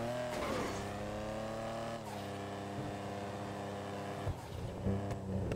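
Engine of a car in GTA V Online, droning steadily with rising and falling revs and harmonic pitch shifts, a sharp knock near the end like a collision, with no talk over it.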